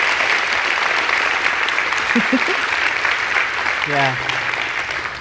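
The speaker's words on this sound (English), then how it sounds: "Can we give them a round of applause?" Audience at a church-hosted education celebration applauding the staff, a broad steady wash of clapping filling the room, with someone speaking briefly over it.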